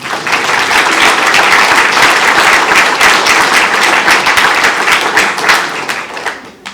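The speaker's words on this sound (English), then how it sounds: "I think they deserve a round of applause." An audience at Parliament House in Hobart applauds in a loud, dense, sustained wash of clapping that fades out toward the end.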